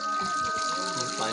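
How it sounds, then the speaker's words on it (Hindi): Spring water flows down from the hills at a Hindu temple, a steady rushing gush heard close by while a person talks over it. "ये पानी है, ये पाइप में से नहीं बाकी ये पहाड़ों में से आ रहा है"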